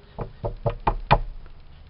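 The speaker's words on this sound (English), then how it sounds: "Let me just knock on the..." Knuckles rap five times on a small apartment's door, an evenly spaced run of dull, close knocks growing slightly louder toward the end, then a faint trailing tap.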